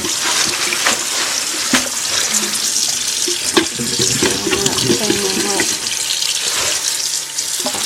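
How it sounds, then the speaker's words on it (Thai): Tap water runs steadily into a sink as wild garlic is rinsed, a loud continuous splashing gush with brief clatters from handling, and someone speaks faintly underneath. "นี่ก็จะล้าง เปิดน้ำใส่แบบ เปิดล้างเลยล้างน้ำหน่อย"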